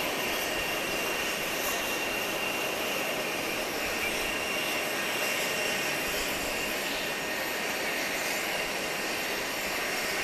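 Saab turboprop airliner at Grand Cayman airport, a steady, continuous engine roar with a faint high whine, heard from a distance and unchanging in loudness throughout.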